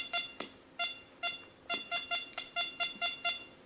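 A Rex Delta 4 metal detector swept over aluminium foil gives a string of about a dozen short, bright electronic beeps in an uneven rhythm, close and clear with no talking.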